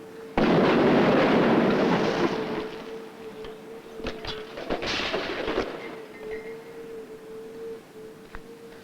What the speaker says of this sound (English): let's just try increasing the size of our explosion by a factor of 10